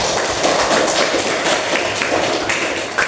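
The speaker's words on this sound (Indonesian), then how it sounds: "Tepuk tangan semuanya." A class of students in an Islamic jurisprudence lesson claps steadily for about three seconds, with dense, even clapping close by and no talk over it.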